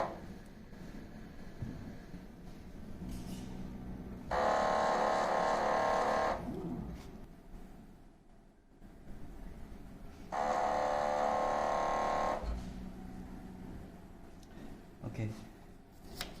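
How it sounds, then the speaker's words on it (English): A phone case printer runs a head cleaning cycle, its mechanism whirring loudly in two sustained bursts of about two seconds each, separated by quieter mechanical clicks and hum. "we need to clean the printer head"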